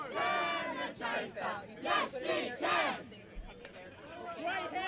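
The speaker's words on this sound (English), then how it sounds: "Great chance from the Australian sideline, cheering on their teammates." Cheering and shouting from the Australian sideline at a Quadball World Cup group game against Japan, several voices yelling in bursts, loud and close, over ongoing crowd noise.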